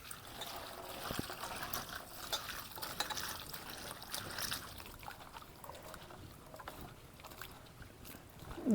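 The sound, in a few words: washing taro stolons (kochur loti) in water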